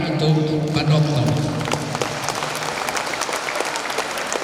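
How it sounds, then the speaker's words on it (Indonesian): Applause from an audience at the opening ceremony of an Indonesian mother-tongue festival for the Dawan language, dense clapping with a voice talking over the start before the clapping continues on its own. "Kita tepuk tangan untuk Pak Dokter"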